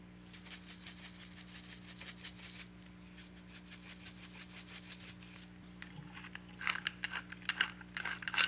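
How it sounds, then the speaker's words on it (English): A pepper mill grinds fresh peppercorns coarsely over latkes in a home kitchen, producing a steady rapid ratcheting crunch in repeated bursts over a constant low background hum, fairly close and moderately quiet. "My pepper mill doesn't make it really fine."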